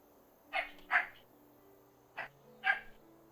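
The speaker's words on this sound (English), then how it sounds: "Sorry about the dogs." Dogs barking indoors, four sharp barks in two pairs, moderately close, over a quiet room tone.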